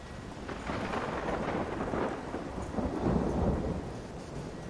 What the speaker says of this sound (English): the storms in this sound like storms in real life